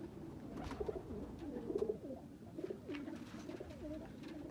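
French pigeons coo close by in a soft, low, rolling series of repeated calls, fairly quiet with faint background noise and no talking.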